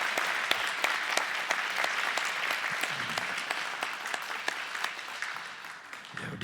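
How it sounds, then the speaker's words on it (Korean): A church congregation at a Sunday worship service claps in welcome, a dense, steady round of applause lasting several seconds with a few sharper individual claps standing out, then thinning near the end. "환영의 박수 한번 해주시기 바랍니다."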